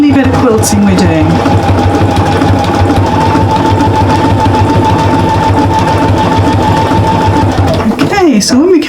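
Close, loud sewing machine quilting a flower mat with a continuous steady hum, while a voice talks over the stitching before the motor stops near the end.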